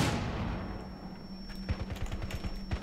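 Video game gunfire in Rainbow Six Siege, a quiet run of rapid rifle shots in the second half following a louder burst of noise at the start, with a steady electronic tone underneath.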